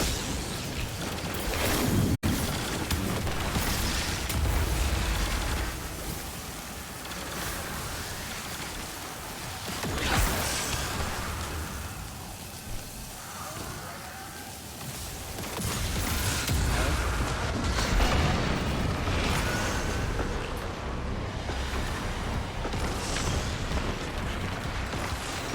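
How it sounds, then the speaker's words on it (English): Grenade launcher explosions from the Destiny 2 shooter game, set in the Season of the Witch: a dense, continuous barrage of booms and bursts with a sharp crack early on, under music and effects, with no speech. "This grenade launcher works."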